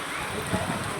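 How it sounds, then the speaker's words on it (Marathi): Heavy rain pours over a village, a dense, steady wash of close hiss with no letup across the moment. "अरे बापरे, जोरावला पाऊस"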